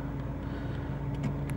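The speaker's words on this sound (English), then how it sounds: "it's idling at about 850 cycles" A Chery J1 car engine idling at around 850 rpm on a quiet side street, a steady low rumble with no talk over it.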